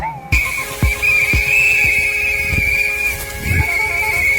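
A loud, sustained shrill whistle held over several seconds amid chaotic background noise, with intermittent thumps beneath it.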